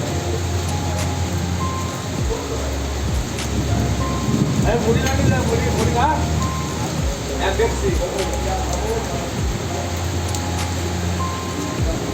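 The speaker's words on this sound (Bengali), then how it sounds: "ভয়ানক বৃষ্টি" Steady heavy rain drums on a tin roof in rural Bengal, with occasional sharp patters and a voice speaking briefly over it.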